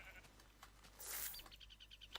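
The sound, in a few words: sheep bleating in video game Minecraft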